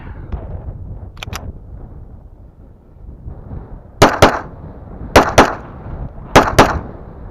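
Pistol firing Winchester 115 grain ammunition from a Wilson Combat magazine, with about five sharp, loud shots: one faint pair early, then three closely spaced pairs of reports over quiet outdoor background.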